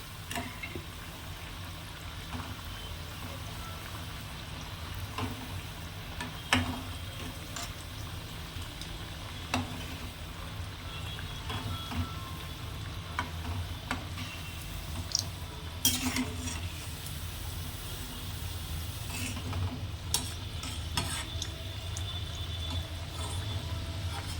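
Paruppu vadai, crispy masala vada, deep-frying in hot oil on a medium flame, a continuous bubbling sizzle with scattered sharp clicks and taps from a utensil across a long stretch.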